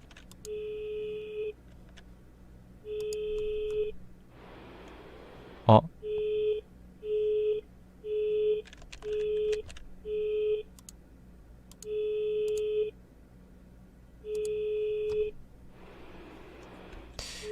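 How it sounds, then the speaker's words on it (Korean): Telephone in a Korean horror video game sounds a steady pattern of repeated electronic beeps, evenly spaced over a low hum, with brief bursts of noise and someone briefly speaking. "전화."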